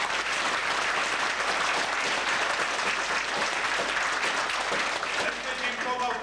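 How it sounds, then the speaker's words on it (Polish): An audience applauds a 1995 Passion play staged by seminarians of the Łowicz seminary, a dense, continuous wash of clapping heard from within the hall. "Im się należą brawa."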